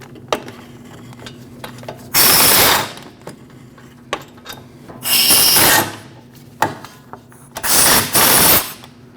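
Power tool driving out E14 inverted Torx bolts on the back of a rear wheel bearing on a 2014-2023 Jeep Cherokee, three loud sustained bursts of rasping mechanical whirring separated by quieter clicks and clanks.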